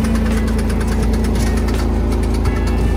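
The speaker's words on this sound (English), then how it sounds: "These are all noises that an engine is supposed to make," A Porsche 987 Boxster flat-six engine runs steadily up close, loud and continuous, with an abnormal rhythmic knocking ticking through the mechanical drone.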